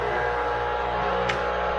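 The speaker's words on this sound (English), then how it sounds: "that sound is simply the water is being put from the reservoir into the boiler" A MondoVAP 2400 vapor steam cleaner pumps water from its reservoir into the boiler, a steady low mechanical hum and drone, close and continuous.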